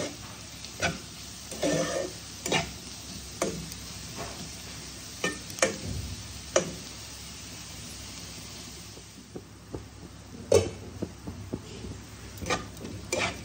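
Onions fry in a pan while a utensil stirs them: soft sizzling runs underneath sharp, irregular scrapes and taps close by. The scrapes come in scattered bursts over a quiet background.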